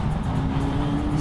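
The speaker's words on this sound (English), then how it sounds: "The way this car works is sport mode on, that's when you get more noise as well." An Aston Martin V12 Vantage S Roadster engine in sport mode drones loudly and steadily from inside the car, a deep continuous rumble with a sustained low tone and no clear rev change.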